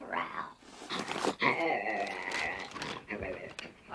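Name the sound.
growl imitating a monster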